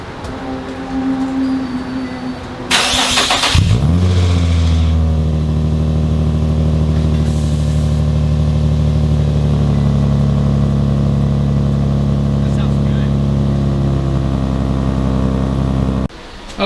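Infiniti G35 with an ISR exhaust, not yet gasketed and with open holes, cranks and catches, then settles into a loud, steady, rumbling idle that holds close for over twelve seconds before cutting off.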